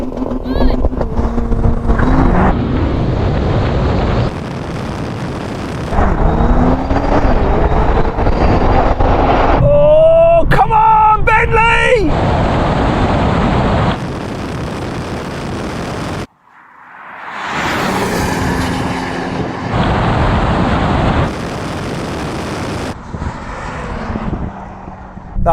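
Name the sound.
Bentley Continental GT and BMW M8 drag race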